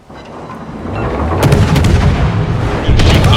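Warship guns firing in World of Warships clan battle: a rising low rumble builds into heavy booming salvos and crackling blasts, loud and sustained, with another burst of fire near the end.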